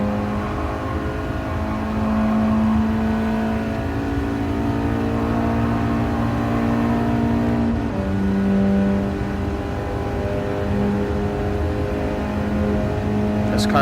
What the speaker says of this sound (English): This car is pretty quick.